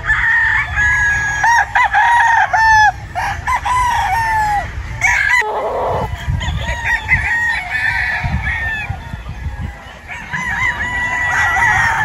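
A Kalinyada straight-comb Sweater gamefowl rooster crows loudly and close on a farm, several long drawn-out calls over a noisy outdoor background, with other fowl clucking and crowing nearby.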